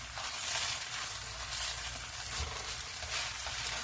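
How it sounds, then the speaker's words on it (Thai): Shrimp being stir-fried in a pan for pink-noodle pad mee make a loud, continuous sizzle with small surges as the food is stirred and moved about, and no talking. "ใส่กุ้งลงไปทุกคน ผัดกุ้งก่อน"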